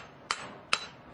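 Hammer blows ring on hot iron at an anvil during blacksmith forge welding, three sharp metallic strikes spaced evenly about every 0.4 seconds, each bright and ringing with a short decay.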